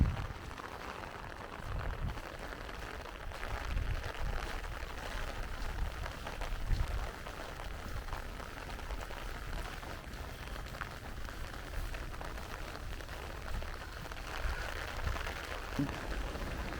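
Steady outdoor rainfall near the airport strip in Montego Bay, Jamaica, a soft continuous hiss of drops on surfaces with low rumbling gusts, moderately quiet and constant throughout, with no talking.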